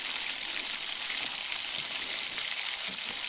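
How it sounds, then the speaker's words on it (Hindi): Chicken wings for Korean fried chicken deep frying in hot oil in a kadhai, a steady close bubbling sizzle with no talk. "अब बाकी के भी जो विंग्स रह गए इनको भी हम फ्राई कर लेंगे"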